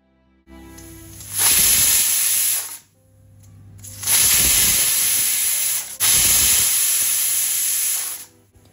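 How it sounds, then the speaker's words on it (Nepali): A pressure cooker cooking chana dal lets off steam through its whistle in three loud hissing bursts, each a sustained jet cut off by brief pauses. "ग्यासलाई अन गरेर 3 देखि 4 सिटी लगाउने।"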